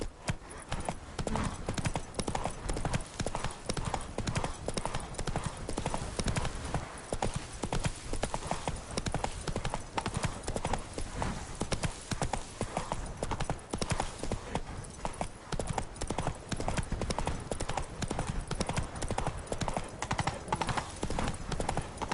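Galloping horse hooves in The Witcher video game, a steady fast clip-clop rhythm running continuously and loud throughout, with a voice urging the horse on briefly.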